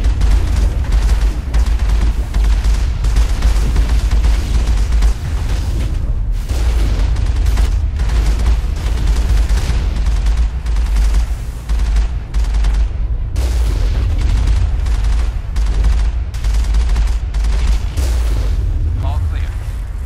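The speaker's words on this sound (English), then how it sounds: "Wow, you can stop with the rockets." Rocket explosions in the Mass Effect video game, a loud, dense barrage of booms and blasts with heavy low rumble throughout, continuous with little pause.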